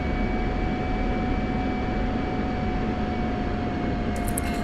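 F-16 fighter jet taxiing in a combat flight simulator, a constant loud engine roar and whine holding steady throughout with no changes in pitch and no voices.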